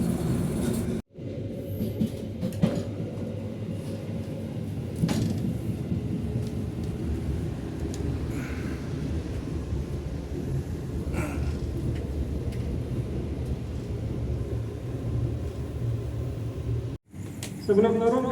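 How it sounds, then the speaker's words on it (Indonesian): The Jayabaya passenger train pulls into Pemalang station in the middle of the night with a heavy, continuous low rumble and roar that holds steady for most of the stretch, broken by brief dropouts near the start and end. "Kereta api Jayabaya masuk di stasiun Pemalang"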